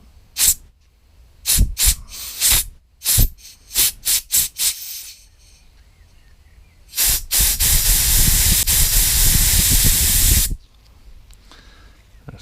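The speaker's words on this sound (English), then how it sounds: "And I'll get my air compressor" An air compressor nozzle blasts compressed air through a small part of a hedge trimmer, first in several short sharp hissing bursts, then in one long loud continuous blow before stopping.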